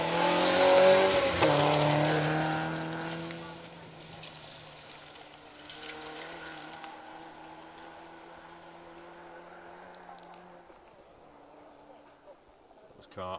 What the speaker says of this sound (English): That was car 184, Will Armitage, Jeremy Pole in the Peugeot 3